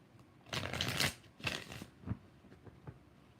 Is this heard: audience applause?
no